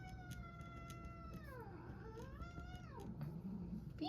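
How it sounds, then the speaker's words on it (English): Two house cats fighting indoors, drawn-out rising and falling caterwauling meows and a short hiss near the end, fairly close but quiet. "Sorry, the cats are trying to fight each other."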